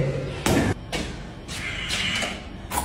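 An apartment door swings shut with one heavy thud near the start, followed by softer rattling and shuffling noises in a quiet indoor space.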